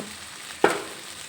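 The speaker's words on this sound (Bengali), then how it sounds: "এখন এর মধ্যে ভেজে রাখা ফুলকপিগুলো দিয়ে দেব" Fried cauliflower tipped into spiced, partly cooked potatoes in a pan, one sudden thump and burst of sizzle, then a soft sizzle fading away.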